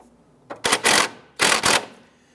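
A ratchet with a 15mm socket snugs down the sway bar link nut on a 2001-2005 Honda Civic, giving two close bursts of rapid clicking strokes, each a quick double pulse, with quiet between them.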